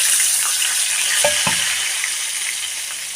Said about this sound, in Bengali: এবার এর মধ্যে দিয়ে দেবো পেঁয়াজগুলো